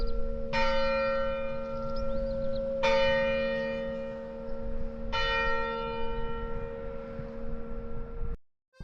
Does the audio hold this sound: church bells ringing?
yes